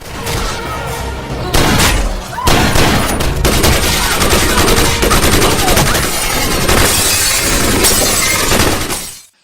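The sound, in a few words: gunfire in a film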